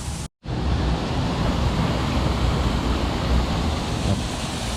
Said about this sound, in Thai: น้ำตกครับตรงนี้เป็น